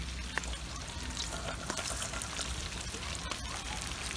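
Zucchini and beans frying in a pan, a steady close crackling sizzle with scattered sharp pops, continuous and fairly quiet with no talking.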